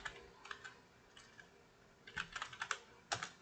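Keys click on a computer keyboard as a block name is typed in AutoCAD: scattered single keystrokes, then a quick burst of taps near the end. The typing is faint and close, with no talk.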